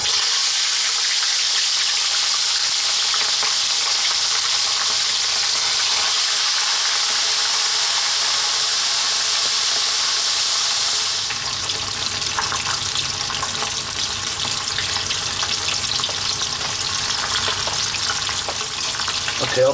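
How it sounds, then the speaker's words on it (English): Whole tilapia deep fries in hot sunflower oil, a loud, dense hiss of sizzling that holds steady for a while, then shifts to a slightly softer bubbling crackle with faint clatter. "We're going to drop our fish in and we're going to cook them for about 4 to 5 minutes on each side."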